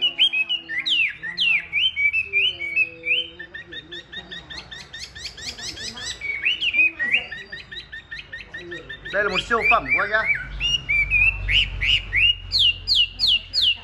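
A rare yellow-coloured songbird kept by a breeder sings repeated clear whistles, trills and chirps close by, in bursts across the whole stretch, while someone talks over it.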